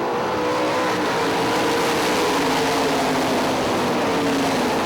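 Sprint cars race on the dirt oval at Hartford Speedway Park, a loud, continuous blend of screaming engines holding and rising as the field accelerates from the green flag.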